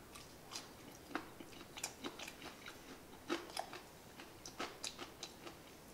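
Close, crisp crunching bites and chewing of KFC Nashville Hot fried chicken, irregular clicks and crackles scattered throughout, quiet with no talking.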